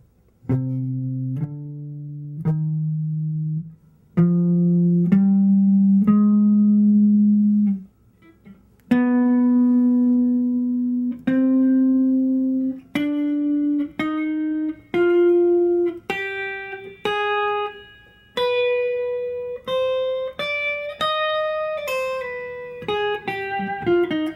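A solo jazz guitar plays a melodic lick of single plucked notes, climbing steadily higher in pitch with short pauses between phrases.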